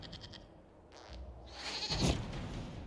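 A goat bleats in the Dragon Age Inquisition video game, a few wavering cries rising midway and peaking near the end over a low game ambience, with no speech.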